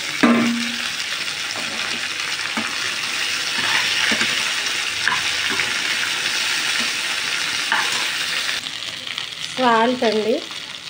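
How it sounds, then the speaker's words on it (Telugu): Chopped okra and onions fry in a pan with a loud, continuous sizzle, broken by occasional stirring scrapes and a brief whistling sound near the end. "ముందుగా మనము తరిగి పెట్టుకున్నటువంటి బెండకాయ ముక్కలండి వేసేద్దాం"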